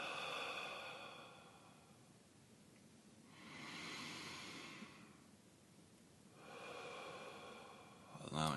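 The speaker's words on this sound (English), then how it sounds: "We'll begin with some deep breaths in through the nose and then out through the mouth." A person draws slow, deep breaths in through the nose and lets them out through the mouth during a meditation session, two long soft airy swells with quiet pauses between, faint and close, with no speech.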